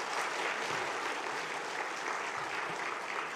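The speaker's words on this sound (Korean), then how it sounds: "우리 목사님께 한번 감사하다고 우리 한번 박수 드리겠습니다" Church congregation applauding their pastor at a Sunday worship service in Korea, an even wash of clapping held steady from start to end at moderate distance.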